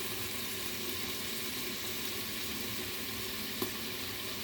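Shrimp sautéing in a pan, a steady, even sizzle and fry that stays constant throughout, with one brief clink near the end.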